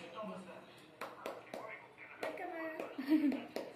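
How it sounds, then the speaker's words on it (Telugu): Hands clap a few times at Bathukamma festival decorations, several sharp, moderately close claps spaced irregularly among a voice and adult talking. "క్లాప్ చేయి క్లాప్ క్లాప్ క్లాప్"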